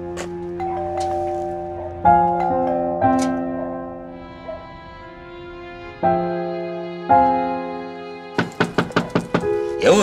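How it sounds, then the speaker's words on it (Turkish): Knocking on an office door comes in a few separate firm knocks over a sustained musical drone, ending in a quick run of rapid raps, with no voices. "Aç kapıyı, Sinan ben."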